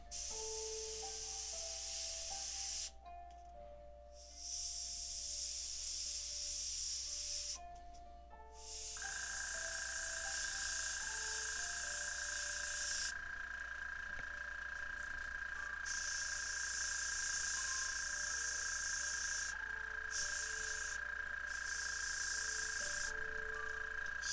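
An airbrush hisses steadily while spraying paint onto an M4A3E8 Sherman model tank, a loud continuous airy spray broken by a few brief pauses, with a constant low hum beneath.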